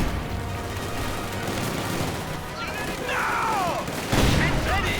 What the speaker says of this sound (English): Quick grenade here.